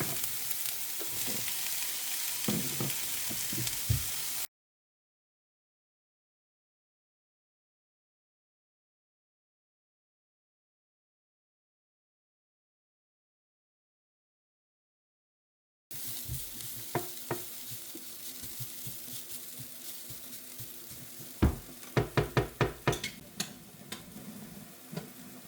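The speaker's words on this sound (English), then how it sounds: "after 5-6 minutes of cooking carrots and onion together, we power off the heat." Diced onion and carrots frying in a pot as a base for pea soup, a steady close sizzle with stirring scrapes and clicks of a utensil, broken by a long silent gap midway.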